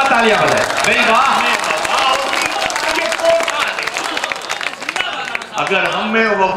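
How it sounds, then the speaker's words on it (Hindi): An audience applauds at an Indian mushaira, an Urdu poetry recital, with a dense sustained clapping wash. Voices and cheers rise over it throughout. "दोस्तों एक बार पूरा बजमा तालियां बजाए"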